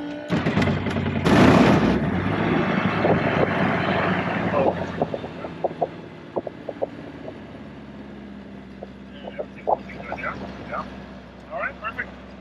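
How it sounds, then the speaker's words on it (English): A small fuel-injected airplane engine cranks and catches with a loud broadband surge, then settles to a steadier, quieter running drone while people talk over the intercom. "then hold the engine start button, right? Okay. And then once the engine starts, we're gonna be checking for oil pressure"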